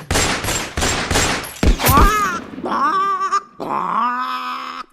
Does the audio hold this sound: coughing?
no